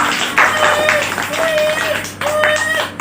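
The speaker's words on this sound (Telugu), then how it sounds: "గట్టిగా చప్పట్లు కొడదాం." Children clap their hands together at a Christmas celebration in Guntur, a steady run of brisk claps with an adult voice talking over them.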